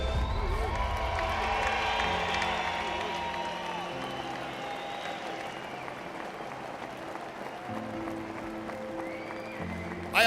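A ceremony audience applauds and cheers for a group of veterans. The clapping is loud and sustained, with whoops and shouts mixed in and some voices underneath, easing slightly toward the end.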